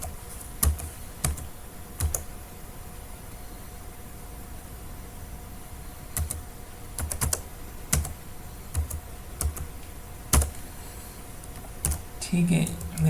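Sparse keystrokes on a computer keyboard as an email address is typed, with scattered single clicks and a quick flurry near the end over a steady background hiss.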